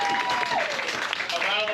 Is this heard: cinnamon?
no